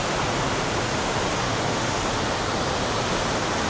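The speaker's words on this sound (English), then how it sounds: "the magnificent sound of the waterfalls" Cumberland Falls in Kentucky roars with a dense, constant rush of falling water, loud and unbroken, with no voices.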